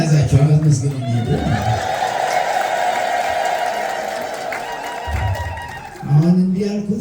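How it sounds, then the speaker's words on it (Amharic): An audience applauds in a sustained wash of clapping for several seconds. A voice speaks just before the clapping and again as it fades. "አጨብጭቡላቸው።"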